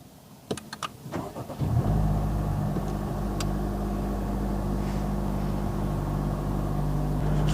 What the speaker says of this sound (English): Let's start up the engine.